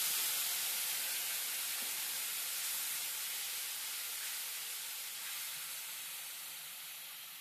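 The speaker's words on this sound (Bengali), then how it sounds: "পেঁয়াজটা নরম হয়ে এসেছে, এবারে আমি জল অ্যাড করে দেবো কিছুটা" Water poured into a pan of frying onions and tomatoes sets off a loud, broad steaming hiss that stays close and continuous, slowly fading in strength over several seconds, with no voices.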